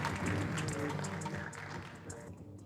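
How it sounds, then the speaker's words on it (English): Faint, steady applause from an audience at a Women's Equality Day gathering, a dense patter of many hands that slowly thins and tapers off over a few seconds. "Let's give her a round of applause."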